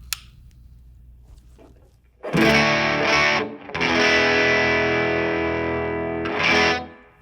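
Epiphone Les Paul Modern electric guitar with coil-split neck pickup, distorted chords played alone, a strum ringing out, a short pause, then a long sustained chord fading away.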